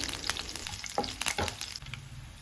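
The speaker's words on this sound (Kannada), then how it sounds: "1/4 ಸ್ಪೂನ್ ಸಾಸಿವೆ, 5 ಎಸಳು ಜಜ್ಜಿದ ಬೆಳ್ಳುಳ್ಳಿ, ಹಾಗೆ 2 ಎಸಳು ಕರಿಬೇವು, ಇಷ್ಟನ್ನು ಸ್ವಲ್ಪ ಫ್ರೈ ಮಾಡಿಕೊಳ್ಳಿ." Mustard seeds, crushed garlic and curry leaves fry in hot oil with a close, lively sizzle, scattered pops and the scrape of stirring, no voices.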